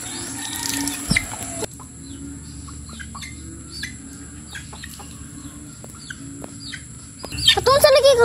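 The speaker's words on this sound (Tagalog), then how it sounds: "Manok yan na." Chickens cluck and chirp in scattered bursts around a home, with a denser, louder flurry of calls near the end and voices talking nearby.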